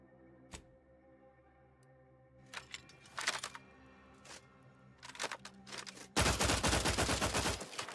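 Integrator rifle fire in a sci-fi space game, isolated shots and short bursts at first, then a sustained loud full-auto stream of rapid rounds at the end, over a quiet tonal game background.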